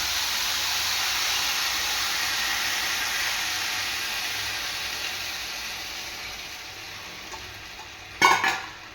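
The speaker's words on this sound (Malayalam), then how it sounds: "എന്നിട്ട് ഇത് നല്ലതായിട്ടൊന്ന് ഇളക്കി കൊടുക്കണം" Strained jaggery syrup being stirred in a pan with poha and semolina, a steady soft bubbling hiss that gradually fades, then a brief sharp clatter of a utensil against the pan near the end.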